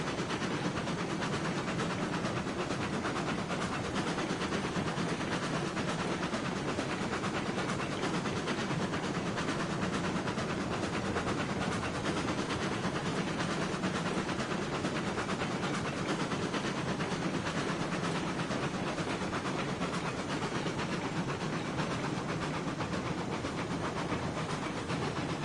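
Train running in the railroad video game Railroads Online, a steady broadband rumble and hiss continuing evenly throughout at moderate level with no talk.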